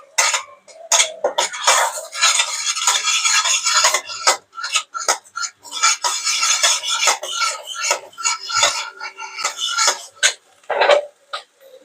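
Ginger-garlic paste fries in a pan for jackfruit rezala, dominated by repeated loud scraping and rubbing strokes of a spatula against the metal in an irregular rhythm, with short pauses between bursts.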